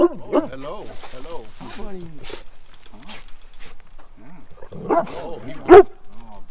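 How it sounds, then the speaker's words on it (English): A hound dog gives a few short barks and whimpers in a home, mixed in with close, steady talking from a person; one sharp louder yelp stands out near the end. "Oh, that's a hound dog."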